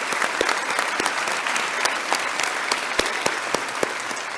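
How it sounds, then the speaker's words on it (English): Dense, steady applause from an audience at the Prince William Chamber Valor Awards ceremony honoring sponsors, a full-room clatter of many hands sustained evenly throughout with no voices. "Let's give all our sponsors another round of applause."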